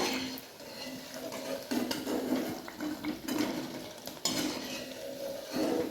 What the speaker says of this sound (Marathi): आता आपण भजी एका प्लेटीत काढून घेऊया.